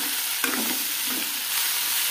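Onions and tomatoes fry in a pan with Maggi noodles, making a loud, continuous sizzle. A single scrape of stirring comes early on, and there is no talking.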